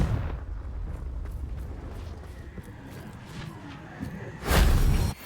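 A Confringo fire spell bursts in Hogwarts Legacy, a deep booming explosion that swells loudly near the end after low rumbling combat noise; no talking.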